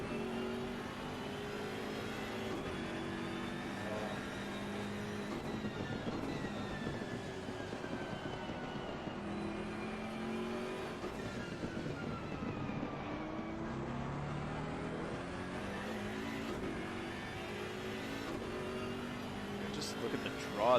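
Porsche race car engines in Assetto Corsa Competizione at a Paul Ricard sprint race, steady droning engine tones rising and falling with gear changes beneath continuous commentary.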